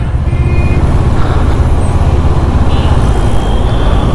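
Honda CB500F motorcycle riding on a road, a steady loud engine and road rumble that stays continuous throughout without any distinct break for a gear change.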